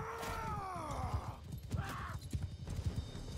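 Cavalry horses gallop in the video game Mount & Blade II Bannerlord, with a neigh rising at the start and a steady patter of hoofbeats continuing under the clash of battle.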